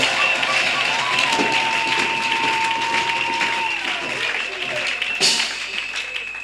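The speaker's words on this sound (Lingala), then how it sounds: "Acclamons pour le Seigneur Jésus-Christ." A church congregation bursts into loud, sustained applause, dense clapping filling the space while a voice carries on over it and a sharp clap-like burst stands out near the end.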